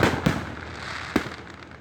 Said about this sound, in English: Anyway, back to the fireworks.